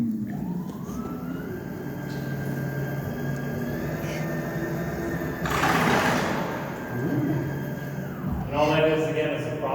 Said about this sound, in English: So we set the engines a little bit higher than you normally set an engine